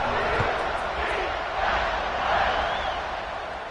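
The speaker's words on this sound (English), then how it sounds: "this crowd is buzzing after that last score" Stadium crowd in a college football video game, a Louisville versus UCF matchup, a broad continuous roar that swells and fades slightly, filling the scene at moderate loudness with no clear voices on top.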